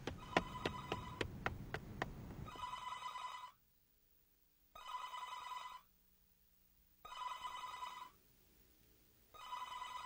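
A telephone bell rings in repeated bursts, each about a second long and separated by silences, loud and close, preceded by a short run of sharp ticking strikes; no one speaks.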